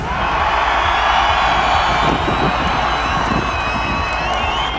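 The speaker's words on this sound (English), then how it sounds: "This is going to be the loudest cheer we have ever heard in Mondello Park" A grandstand crowd at a Drift Masters event at Mondello Park in Ireland roars in sustained, loud cheering, with whoops and shouts rising over a dense wash of voices for several seconds.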